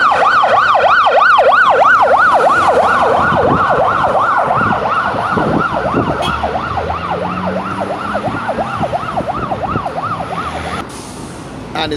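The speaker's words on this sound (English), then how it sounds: "ambulance passing through" Loud wailing ambulance siren cycling rapidly up and down as it passes along a busy road, gradually fading with traffic noise beneath.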